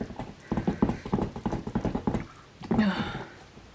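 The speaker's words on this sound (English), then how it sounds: "There's a little popping going on. We can hear the sort of the clay absorbing the oils." Soap batter loaded with clay gives off a quick, irregular run of small pops and crackles, close and fairly soft, with a brief louder bubbling burst near the end.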